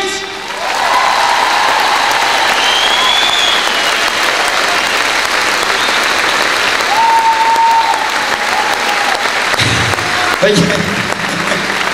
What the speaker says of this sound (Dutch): geef ze een geweldige applaus